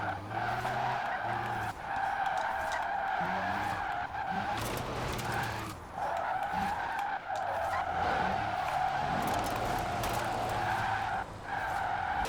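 In the racing game Forza Horizon 4, a Rimac C Two electric hypercar drifts with long, repeated tire squeals and skids that rise and fade in waves, loud and close throughout.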